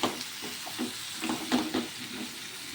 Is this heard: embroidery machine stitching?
no